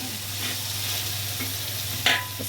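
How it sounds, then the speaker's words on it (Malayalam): Fried rice with chopped spring onion sizzling in a hot pan as it is stirred, with a steady frying hiss, soft scraping strokes and a sharper clink of the utensil near the end, all close and without talk. "എല്ലാം കൂടി ഒന്ന് നല്ലോണം ഇളക്കി യോജിപ്പിക്കണം."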